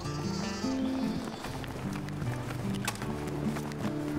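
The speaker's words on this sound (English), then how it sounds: "I know they're lambs, and I know it's the time of year, but I've never heard such noisy sheep." Lambs and sheep bleat almost nonstop beside an old railway path in the Callander area, several animals calling over one another close by, with light shuffling underneath.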